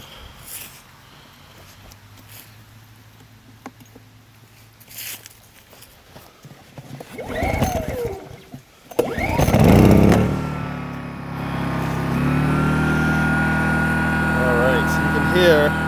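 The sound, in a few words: WEN 1250 watt inverter generator starting up and running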